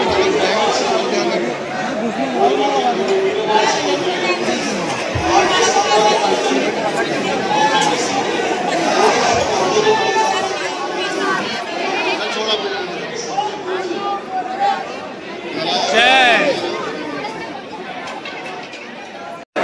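Dense crowd chatter fills a packed temple darbar, many overlapping voices murmuring steadily and close with shuffling movement throughout, swelling briefly near the end.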